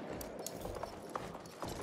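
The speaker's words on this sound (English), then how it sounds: "Should we take the horse into the ballroom and crash the party?" A horse's hooves clip-clop steadily across the floor of a ballroom in the World War 1 game Battlefield 1, a quick and fairly close rhythm of hard knocks with no talk over it.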